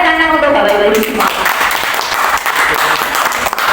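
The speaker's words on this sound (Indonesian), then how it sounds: "Tepuk tangan untuk Bapak Ibu semua." A voice trails off as a group of teachers breaks into applause, a dense crowd of clapping hands that stays loud and fairly even for a few seconds.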